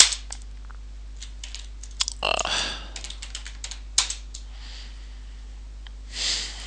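A computer keyboard being typed on in short bursts of quiet clicks and taps, with a louder clack or two and a brief breathy rustle, over a low steady electrical hum.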